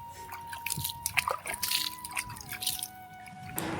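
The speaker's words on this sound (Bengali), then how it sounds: "একটু জল দিয়ে দেবো।" Water is poured onto a freshly planted Malabar spinach seedling in rooftop garden soil, giving close splashes and drips, a brief trickle and soft clinks, and no talk.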